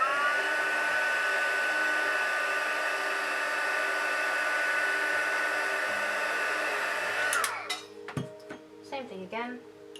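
Hair dryer heat-setting face paint blows with a steady whirring hum for most of the stretch, then clicks off and winds down into scattered handling knocks and rustles.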